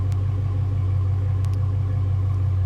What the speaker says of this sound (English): Straight pipe kind of had like once it idled for a few minutes, just didn't really have a deep rumble